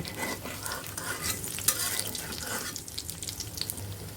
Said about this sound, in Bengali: সব কয়টি বড়া আমরা ভেজে নিব পুরাগুলো এখন উল্টিয়ে দিব